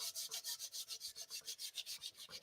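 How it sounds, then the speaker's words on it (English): Sandpaper lightly sanding the edge of a painted piece of thrifted home decor, giving quick, even back-and-forth rasping strokes, about seven per second, close and quiet with no voices. "I'm just going to take the sandpaper, lightly go over the edge to distress it"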